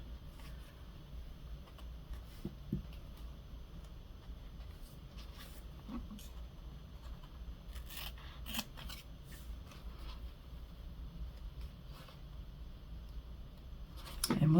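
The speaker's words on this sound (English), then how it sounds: "And we'll just cut our first few here and see if that works right." Scissors snip through paper for a gingerbread envelope journal, producing a string of crisp, close cuts in irregular bursts against a quiet room, with a voice speaking softly now and then.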